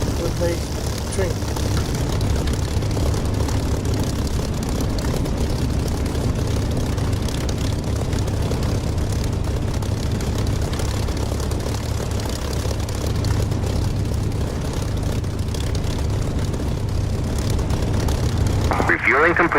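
A simulated aircraft in the DCS flight game runs its engine with a steady low propeller-like drone that rises sharply near the end as it takes off, while a voice speaks over the engine noise.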